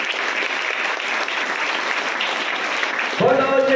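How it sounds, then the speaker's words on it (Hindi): A church congregation claps loudly and continuously in a dense, steady wash of applause, with singing or calling voices rising near the end. "जोरदार ताली बजाओ,"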